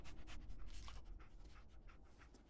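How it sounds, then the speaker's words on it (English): Dogmeat, the dog companion in Fallout 4, pants quickly and steadily in a close, quiet stream of rhythmic breaths, with no voices over it. "I'm trusting my family's future to a dog."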